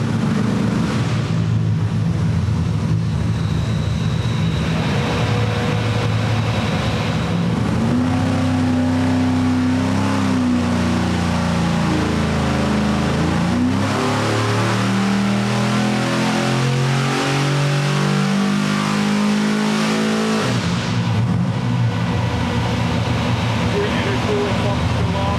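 A high-horsepower car engine, tuned to around 1,000 horsepower, revs hard through a dyno pull, its pitch climbing steadily then cutting off, loud and close, with voices talking over it.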